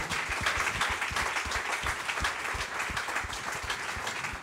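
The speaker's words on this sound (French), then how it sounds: "Allez, un petit peu plus, un petit peu plus encore d'applaudissements, s'il vous plaît." A crowd at an awards ceremony applauds a trophy winner, sustained even clapping of many hands at moderate level, with no talking over it.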